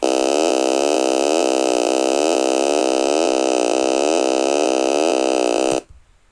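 Bright synth notes from a basic FL Studio 10 house loop play in a steady, repeating pattern of even plucks with a sustained high tone, loud and close, stopping abruptly near the end.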